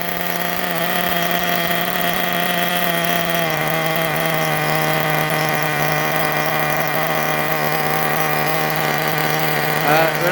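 A nitro RC buggy engine, a Gimar P5 in a Hyper 7 buggy, idles with its throttle pulled nearly closed, giving a steady, buzzy, high-pitched drone that holds constant and close throughout.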